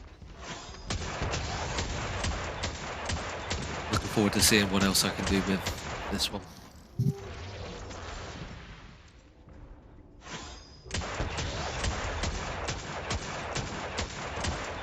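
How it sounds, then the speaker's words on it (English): Hand cannon fire in the video game Destiny during a solo Grandmaster run of Birthplace of the Vile: repeated sharp, loud gunshots in quick succession with booming impacts, pausing mid-stretch as a player talks, then resuming. "I'm really impressed with this hand cannon."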